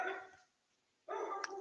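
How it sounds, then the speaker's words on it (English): A dog barks twice in a row indoors, two short moderately loud barks separated by a brief pause, with no talking over them. "That's one of my dogs."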